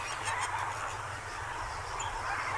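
Flock of Caribbean flamingos on the Cuban coast honking and calling over one another, a steady goose-like clamor throughout, moderately loud and without voices.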